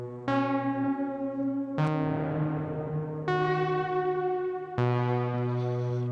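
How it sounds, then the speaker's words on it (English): Four sustained, heavily processed electronic tones from the Neon Egg Planetarium 3 reverb plugin, each struck loud and then washing out slowly in a thick reverb tail that runs into the next, with no talk. "Now let's bring the reverb in."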